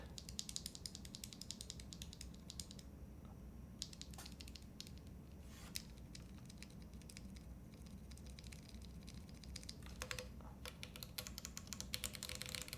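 Mechanical keyboard being assembled, with unlubed switches handled: a steady stream of light plastic clicks and rattles, close and fairly quiet, bunched into busier stretches over a low background hum.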